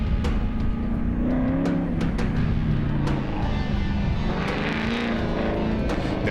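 An onboard drift car runs through a course, its engine whirring and revving at close range in a continuous roar that rises and falls with a few sharp clicks and knocks along the way.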